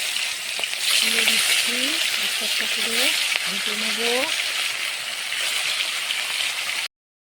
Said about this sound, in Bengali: মাছটা আগে ভেজে নেব